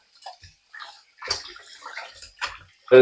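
Water sloshes and splashes in short, irregular bursts with pauses between, as duck meat is rinsed and rubbed by hand in a basin nearby.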